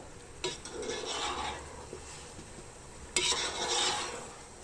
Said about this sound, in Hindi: इसके अंदर हम चावल ऐड कर देंगे और इसको अच्छे तरीके से आपने मिक्स कर लेना है।